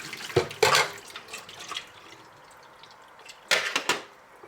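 Liquid poured out of a kettle during a cleaning routine, coming in short splashing bursts with gaps between, close by, and a second burst of splashing later on.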